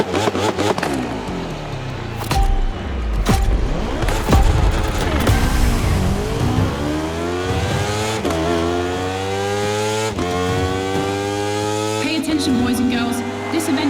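Racing engine in The Crew Motorfest, a loud close motor revving hard, its pitch sweeping up and down through repeated gear changes across the run, with a voice talking over parts of it.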